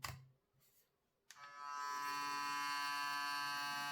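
An Oral-B iO 3 electric toothbrush switches on after a few faint handling clicks and runs with a steady, quiet, high-pitched electric hum held close by.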